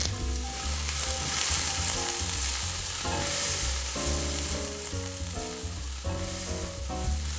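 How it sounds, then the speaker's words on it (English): Baby fennel sautéing with leeks and onions in a pan for a hearty soup, a dense continuous sizzle with occasional stirring, close and steady, no talking. "We're also going to saute that up with your leeks and your onions."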